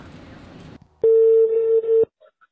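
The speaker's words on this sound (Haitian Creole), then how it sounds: "Un téléphone." A telephone gives a single loud, steady electronic tone lasting about a second, preceded by a brief stretch of muffled noise and followed by faint short beeps.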